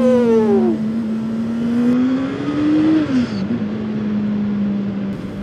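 A turbocharged Honda CBR900 motorcycle engine revs up and holds a loud, close droning pitch that climbs and then drops, with a whistling turbo tone and a brief blow-off valve release around the midpoint.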